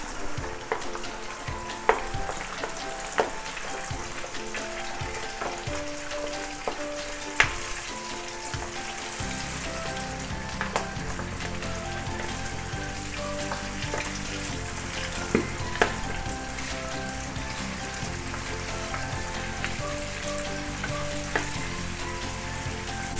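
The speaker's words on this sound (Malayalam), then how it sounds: "എന്നിട്ട് നമ്മൾ ആ മിക്സ് ചെയ്ത് വെച്ചിരിക്കുന്ന ചിക്കൻ അതിലേക്ക് ഓരോന്നായിട്ട് ഇട്ട് കൊടുക്കുക." Marinated KFC-style chicken pieces fry in hot oil with a dense, continuous sizzle and crackle. Occasional sharp pops and stirring clinks sound through it, and no one speaks.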